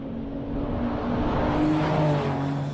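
A Porsche sports car with a carbon body, rear drive and 750 horsepower accelerates, its engine note swelling into a rising, sustained roar that builds steadily over a few seconds, with no voices.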